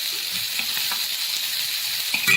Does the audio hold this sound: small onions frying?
yes